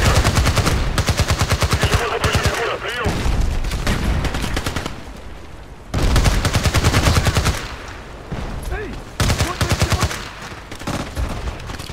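Bursts of UZI submachine gun fire in Battlefield Play4Free, loud rapid automatic volleys in short strings separated by brief pauses, close to the listener, with no talk over them.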